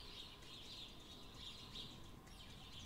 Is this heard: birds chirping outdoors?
yes